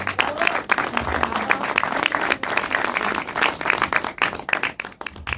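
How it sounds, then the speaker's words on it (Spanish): Warm applause greets the author at a book presentation in San Luis, with close individual claps standing out from the crowd in an uneven, lively rhythm that dips briefly near the end. "les invitamos a recibir a la autora con un cálido aplauso"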